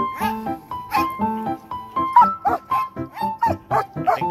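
Sled dogs at a dog sledding outing bark and yip in quick, excited bursts, several dogs close by, some calls rising into higher yelps toward the end.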